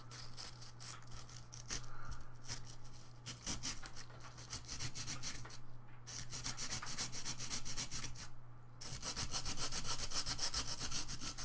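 Hand sanding of a craft project, a continuous close scratchy rubbing that carries through the whole stretch with brief pauses near the middle, fairly steady in loudness and heard alone.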